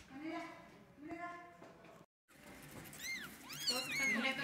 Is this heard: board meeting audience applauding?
no